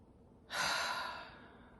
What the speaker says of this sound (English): let's just take together 3 deep inhales and exhales as a way of relaxing your body on this first one.